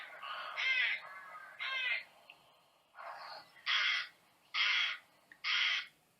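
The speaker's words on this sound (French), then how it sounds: "c'est un corbeau. Oui, un corbeau." A crow caws six times at a moderate distance, with harsh, evenly spaced calls in two groups separated by a short pause.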